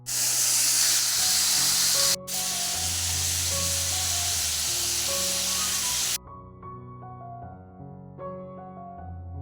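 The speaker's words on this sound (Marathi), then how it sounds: "शेंग इथे फक्त तेलामध्ये छान परतून घेतले" Hyacinth bean pods sauté in hot oil with a loud, steady close-up hiss and sizzle that runs for about six seconds, then cuts off abruptly, leaving a much quieter background.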